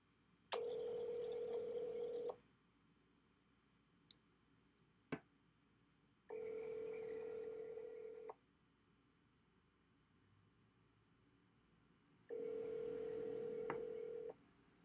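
A telephone call rings out in three evenly spaced long tones of about two seconds each, with faint clicks between them and a quiet line hiss underneath.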